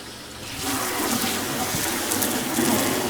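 Regular tap water gushes steadily into a pot being filled to boil a deer skull for a European mount, a continuous close splashing rush that swells after a brief quieter start and holds for about three seconds.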